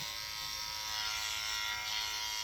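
A Dremel rotary tool grinds a scared dog's nails with a steady, thin, high-pitched buzz that holds constant and close throughout at moderate volume.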